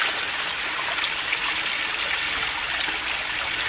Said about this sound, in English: it's got a full flow down here in the pipe, and it should be more than enough to fill this next bucket